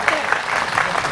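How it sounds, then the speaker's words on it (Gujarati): A short burst of crowd clapping at a Gurjar community gathering in Keshod, dense and mid-loud, mixed with voices. "સાહેબ જોરદાર બંને માટે તાળીયા"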